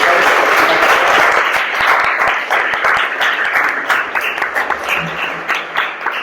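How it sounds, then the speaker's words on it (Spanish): An audience at a public talk gives loud, sustained applause to a guest speaker. The clapping is dense at first, then thins into scattered individual claps toward the end. "le damos un aplauso a Fernando Duclos."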